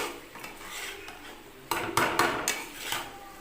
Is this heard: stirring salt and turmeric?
yes